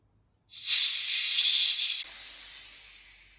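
Pressure casting chamber vents air in a loud, close hiss that starts abruptly, holds steady for about a second and a half, then drops and tapers off gradually.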